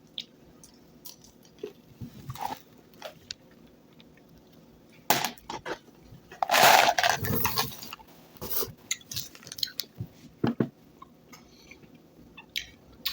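Someone chews jelly beans close up, with soft squishy bites and scattered wet clicks that thicken into a brief denser burst midway, with no talking.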